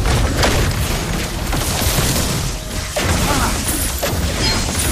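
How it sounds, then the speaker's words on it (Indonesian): Turret destruction in Mobile Legends: a dense, loud crash with booming impacts and debris-like clatter filling the whole stretch, with heavier hits punctuating a continuous rumble of game effects. "Our turret has been destroyed."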